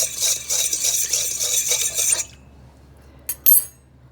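A spoon stirs sugar into warm milk in a bowl, giving quick rhythmic clinks and scrapes for about two seconds. Quiet follows, then two brief sharp clinks close to the mic.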